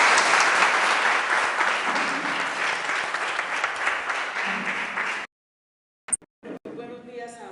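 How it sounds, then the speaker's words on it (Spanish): An audience applauds loudly and steadily for about five seconds at a public event, then the clapping stops abruptly and only brief, faint sounds follow. "Un aplauso a Piedad Córdoba."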